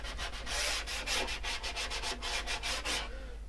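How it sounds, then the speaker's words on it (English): Hand sanding on a wooden radiator cover makes rhythmic back-and-forth rasping strokes, about a dozen close, even scrubs that stop near the end, with no talking. "I just need to sand around here."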